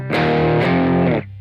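Electric guitar plays a bright intro line through light distortion, sustained chords ringing loud and dense for about a second before cutting off, no voices.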